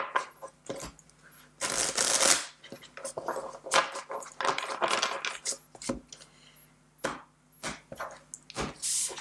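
Tarot cards shuffled by hand in bursts of riffling and sliding, with sharp slaps and flicks as the deck is cut and squared, close and fairly loud, no talking.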